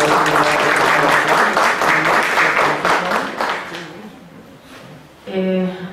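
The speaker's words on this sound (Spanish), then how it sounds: "Y la licenciada Ana Daisu Salas Domínguez, a quien le pido el aplauso." Audience applause at a law lecture, a dense burst of many people clapping that fades away over several seconds before a voice begins speaking.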